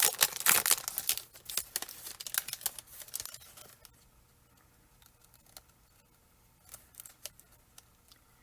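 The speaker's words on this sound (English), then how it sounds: "So I'm bringing out my Gina K deco foils here." Gina K deco foil sheets come out of their package with close crinkling and rustling of plastic and foil, dense and busy at first, then thinning to scattered soft crackles.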